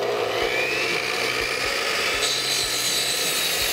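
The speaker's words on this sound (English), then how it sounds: "make sure your fingers are out of the way before you start cutting" A hand saw cuts small wooden components for a miniature aquaponics build, giving a steady rasping scrape with no break and no voices.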